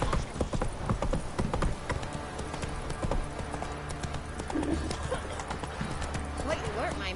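Roach the horse trots along in The Witcher, a steady run of hoof clip-clops across the whole stretch, mixed under voices talking and game ambience.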